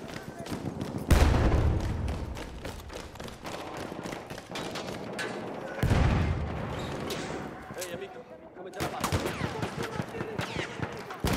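Grenade explosions go off in Battlefield 1 on the Monte Grappa map: two heavy, booming blasts rise out of ongoing gunfire, with voices shouting in the background.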